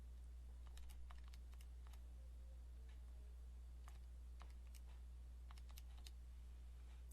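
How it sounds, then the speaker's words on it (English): Soft, quick taps on a computer keyboard come in short irregular clusters over a low steady hum, faint and close, as a number is keyed in. "if I find that answer, I'll type it in here"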